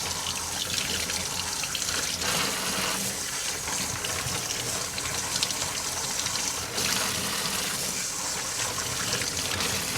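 Tap water runs steadily into a sink while a gutted rainbow trout is rinsed, a continuous close splashing gush with small fluctuations as the fish is moved under the stream.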